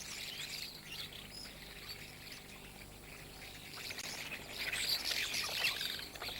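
A flock of starlings in winter plumage, feeding on frozen ground, keeps up faint, busy chattering and squawky calls that swell slightly toward the end, with no voices.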